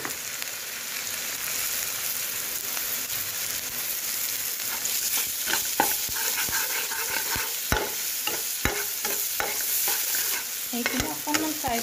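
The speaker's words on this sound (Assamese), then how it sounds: "এইখিনি অকণমান ফ্ৰাই কৰি ল'ম" Onions, ginger, garlic and green chillies frying in a pan, a steady bright sizzle with a spoon stirring and scraping in sharp intermittent clicks over the hiss, growing busier toward the end.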